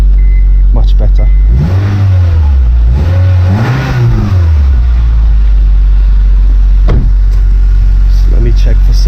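A Honda Jazz engine, just after an exhaust repair, idles with a steady low hum and is blipped twice in quick succession, rising and falling, before settling back to idle close by.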